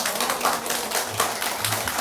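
Audience clapping hands at a Korean laughter therapy lecture, a dense, steady patter of many hands at moderate loudness with no voices.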